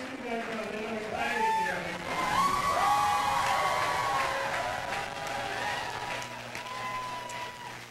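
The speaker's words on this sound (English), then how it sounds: "I would guess there's probably at least a couple of hundred people in here that are cheering for their man who has won this." A crowd of a couple of hundred supporters cheers and applauds at an election-night gathering for winning candidate David Ige, with whoops and shouts rising over sustained clapping and voices mixed in.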